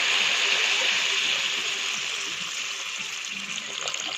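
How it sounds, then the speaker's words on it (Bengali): Water poured into a pan of cauliflower and potato fish curry, a steady bright rushing splash that eases slightly toward the end. "ওখানে দিয়ে দেবো জল, পরিমাণ মতন জল দিবে"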